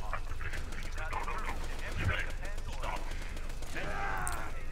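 Rapid gunfire from Borderlands 2 gameplay, a dense rattle of shots and explosions running continuously under a layer of game effects, with a voice speaking over it.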